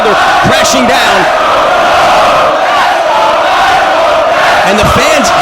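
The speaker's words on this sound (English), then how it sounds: "Cheering on their home countrymen, as well as Samoa Joe." A large wrestling crowd at a Ring of Honor event in Liverpool cheers and bellows steadily, a dense, loud roar with shouts rising throughout and a voice talking over it.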